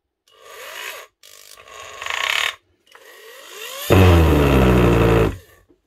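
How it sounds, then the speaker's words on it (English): A Makita 8410BV hammer drill runs in hammer mode, with short bursts of rough, rasping motor noise followed by a louder, steadier buzzing run of about a second and a half that then cuts off. "That's the hammer mode."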